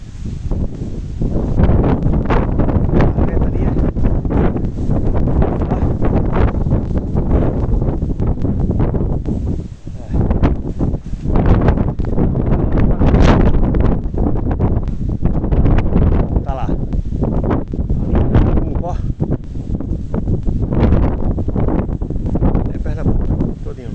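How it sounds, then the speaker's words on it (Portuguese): A strong wind of about 35 km/h in a dusty open area roars into the microphone as loud, continuous buffeting that swells and dips throughout. "Um vento aqui mais ou menos de 35 km."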